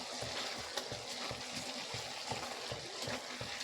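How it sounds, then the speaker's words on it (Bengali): Black cumin stirred into a sizzling spice paste in a pan: a soft, continuous frying hiss with faint rhythmic stirring taps, quiet and close. "কালো জিরেটা দিয়ে আবার একটু আমি ভালো করে নেড়ে নেব।"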